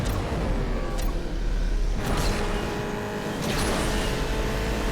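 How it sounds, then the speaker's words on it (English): A car engine in the racing game Asphalt 8 drones and revs with a thin, flat, oddly synthetic tone from a glitched sound missing its turbochargers, a couple of brief whooshing sweeps cutting through; no talking. "the engine sound for the JSCO is broken"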